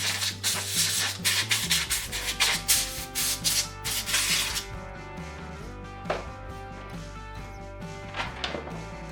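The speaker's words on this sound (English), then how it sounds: "all I'm doing is loosening each one and gently tightening it back up" Torx flathead screws on a DeWalt DW682K biscuit jointer base being loosened and retightened, with rhythmic scraping and rubbing strokes that are loud at first and then fade to faint occasional scratches over a tonal background.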